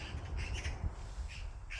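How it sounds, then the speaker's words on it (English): Birds call outdoors in a few short bursts, harsh squawking cries rather than sweet song, moderately near over a quiet background. "We got birds chirping."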